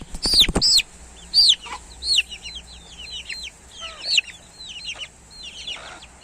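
Soft clucks from a mother hen mixed with a flurry of high, thin peeping chirps from her chicks, scattered and close, over quiet background noise.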